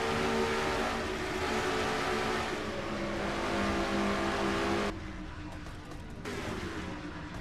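A race car engine in a racing video game holds a steady high drone just under 8,000 RPM through the turns at Dover, then drops in pitch and level partway through as the car lifts, continuous and alone.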